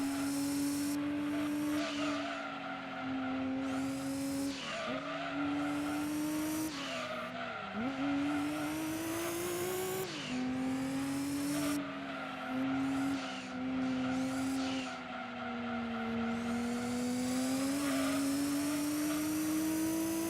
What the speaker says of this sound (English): Love how the turbos probably just instantly spool up.